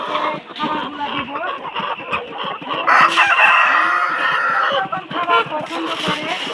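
Tiger chickens clucking and crowing while being fed, a busy mix of close, repeated clucks and calls alongside a person talking.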